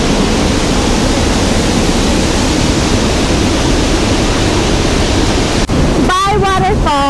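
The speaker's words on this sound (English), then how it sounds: "It's so nice to see the three waterfalls here in Falls Hills Creek." Three waterfalls at Falls Hills Creek pour in a loud, steady broadband rush of falling water that fills the whole scene, with a brief bump and a short burst of voice-like sound near the end.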